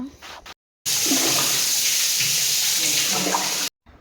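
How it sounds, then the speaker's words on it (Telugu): Water gushes and pours steadily inside a house, a loud continuous rush lasting about three seconds, with short breaks of quiet before and after it. "మా ఇంట్లో చూసారా నీళ్లు పడుతూ ఉంటే రక్తం లాగా పారుతుందనమాట"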